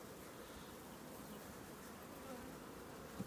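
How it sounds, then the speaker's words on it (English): Honey bees buzzing steadily from an opened, packed hive during queen rearing, a dense continuous drone with no speech, with a brief knock near the end. "absolutely overflowing with bees."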